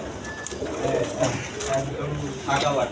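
Free-ranging farm pigeons at a market, with a few soft, low cooing calls recurring amid crowd noise and nearby voices.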